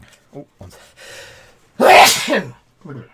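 A single loud, close sneeze bursts out between a few short spoken words, with quiet talk before it and a brief voice just after.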